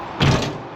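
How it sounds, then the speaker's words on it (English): The back door of a straw bale machine slides out, giving one short mechanical scrape and thump, close and fairly loud, with no talk over it. "the back door can be slid out"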